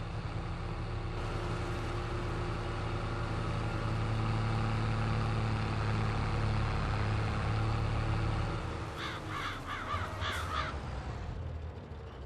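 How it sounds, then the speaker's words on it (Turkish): Crows caw in a short repeated burst in Farming Simulator 22 near the end, over a steady idling farm machine engine drone that holds throughout. "Kargalar geliyor."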